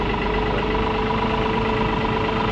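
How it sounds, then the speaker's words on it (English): A farm tractor engine runs loud and steady from inside the cab on a hot day while towing hay equipment, a dense continuous drone with a low rumbling throb and no pauses. "Probably in the tractor about a 10-minute drive"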